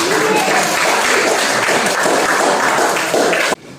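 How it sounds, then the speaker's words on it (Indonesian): Classroom applause during a group presentation, a dense wash of clapping from a class that carries steadily for about three and a half seconds before cutting off abruptly. "Oh, tepuk tangan dulu."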